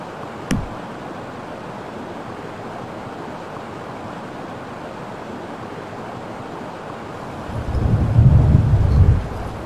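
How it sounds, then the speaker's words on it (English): Steady rain hiss with a sharp crack near the start and a deep rumble of thunder swelling near the end, heard in the video game Paleon; no talking. "Stop due to rain."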